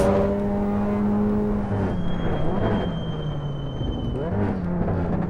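In Assetto Corsa EVO, a simulated race car's engine note drops sharply under braking into a hairpin, then revs back up through second gear, with a loud, steady whine and quick pitch swings from the car's own perspective.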